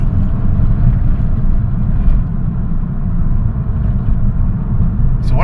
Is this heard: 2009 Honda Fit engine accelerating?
yes